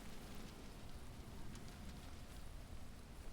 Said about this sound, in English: Raindrops are falling.